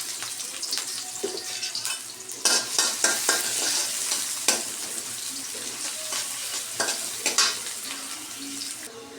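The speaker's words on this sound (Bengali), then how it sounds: "পেঁয়াজটা ভাজা হয়ে গেছে।" Onions sizzling in oil in a wok, heard up close as a steady frying hiss with repeated sharp scraping stirs throughout, no talk.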